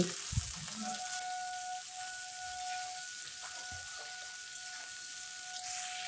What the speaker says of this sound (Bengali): পেঁয়াজটা এক থেকে দু মিনিট ভেজে নেব